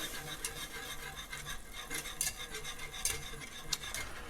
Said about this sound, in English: What we're going to end up doing is whisking this around for about 10 minutes